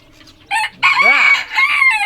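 Chickens on a farm clucking close by, joined by a rooster's loud rising-and-falling crow that takes up most of the moment, with brief bursts of fowl calls before it.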